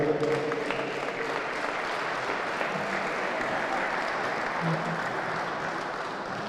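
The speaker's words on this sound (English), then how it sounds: "ladies and gentlemen, a big round of applause for both players there" Sustained, even applause from a crowd at a wallball handball championship presentation, steady clapping filling the hall with a few voices faint beneath it.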